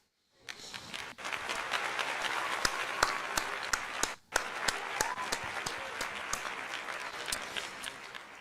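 Stadium crowd at a spring training game between the Philadelphia Phillies and Boston Red Sox applauding pitcher Jesus Luzardo, a sustained round of clapping with a brief dip midway, fairly distant and even.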